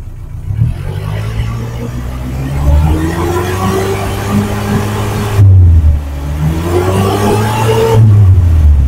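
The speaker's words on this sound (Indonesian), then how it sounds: "Coba kita naikkan RPM-nya, apakah ada suara-suara yang janggal atau tidak" A 2007 Suzuki Carry Futura pickup engine revs up from idle in repeated pulls, the exhaust note climbing and falling in two rising sweeps, loud and close with no talk.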